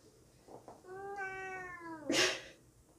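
Ruby, a pet cat, lets out one drawn-out meow that is clear and fairly close, followed by a brief breathy noise.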